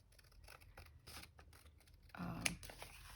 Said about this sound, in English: Sometimes it's just easier to cut your paper like